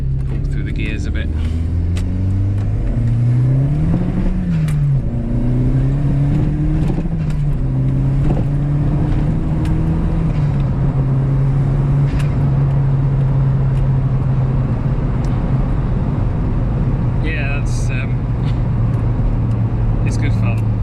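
A Mk3 Golf GTi with a 1.8 turbo engine pulls hard through the gears, its note climbing, dropping at each shift and then holding a steady drone, with people talking over it throughout.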